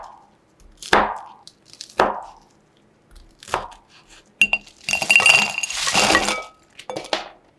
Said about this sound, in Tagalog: hiwain naman natin yung tokwa into cubes